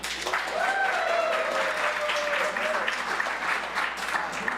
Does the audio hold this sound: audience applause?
yes